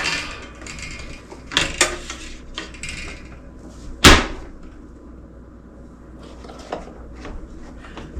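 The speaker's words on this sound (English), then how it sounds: "then I flip it onto my cooling rack" A baked cake is flipped out of an ungreased silicone pan onto a cooling rack: a few light knocks, then one sharp clattering thump, followed by quieter handling taps.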